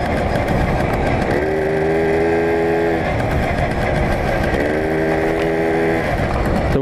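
A Tomos moped with Hammer clutches rides along, its small engine droning loudly and steadily with two rising whines as it shifts gears, the shudder of the clutch blurred into the constant buzz.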